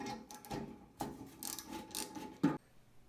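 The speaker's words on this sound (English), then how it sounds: "We'll break tension on each nut using a 7/16 socket." A 7/16 socket ratchets while breaking tension on the nuts of a Coleman Model 425 stove, producing a series of close, short mechanical clicks and turning scrapes with brief pauses.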